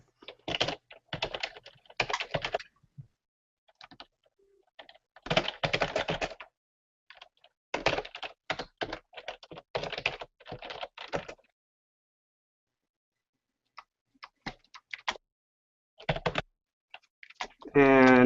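Clattering computer keyboard typing comes in several bursts of quick keystrokes separated by silent pauses, close and clear, with a few isolated taps near the end.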